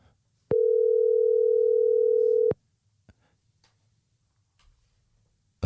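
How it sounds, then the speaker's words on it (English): A single steady electronic tone lasting about two seconds signals an outgoing voice call ringing, followed by faint clicks and near silence. "It's ringing."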